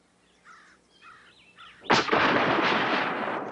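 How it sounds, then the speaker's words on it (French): Light birdsong chirps, then a pistol shot fired into the air during a duel bursts out as a single loud boom with a long rumbling reverberation. "Les deux hommes tirent en l'air"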